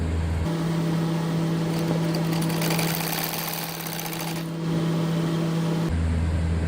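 A sewing machine stitches the button placket of a kurta, running as a steady, rapid mechanical whir with a fast stitching rattle for about five seconds before stopping.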